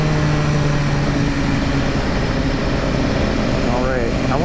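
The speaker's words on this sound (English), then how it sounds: "I wonder how far away people can hear this exhaust from" A 2015 BMW S1000R motorcycle exhaust drones continuously while riding past houses, a steady engine note with tonal hum and wind rush, loud and close under a brief voice.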